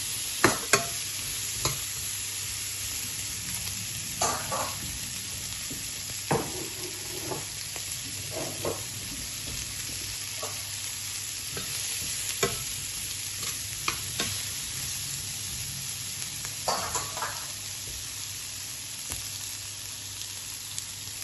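Ingredients for sweet and sour chicken frying in a pan, a constant close hiss with a low hum underneath and scattered clicks and scrapes of stirring throughout.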